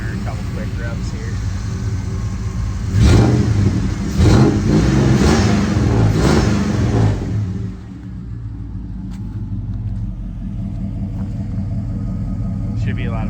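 An LT1 V8 swapped into a Mazda truck gets a few quick throttle blips, loud and close, then drops back to a steady, lumpy idle rumble.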